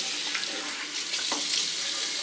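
Tap water runs steadily into a sink for a rinse after shaving with a rough, not very sharp blade, a continuous close splashing hiss with no talk.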